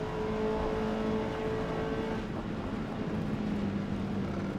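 A Mazda MX-5 racing in D class at Hakone in Forza Motorsport gives a steady, droning engine note that holds at a constant level with a slight shift in pitch partway through, with no voices over it.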